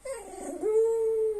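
A cockapoo howls on command, starting with a short wavering whine that rises into one sustained, clear, fairly loud howl, close by and alone.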